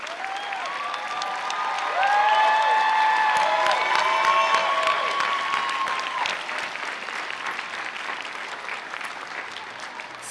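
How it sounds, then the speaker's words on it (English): A commencement audience applauds graduating veterans and active military members with steady, full clapping that swells and holds across a large hall, with a few cheers and voices mixed in before it slowly thins. "I'd ask them to stand and a round of applause"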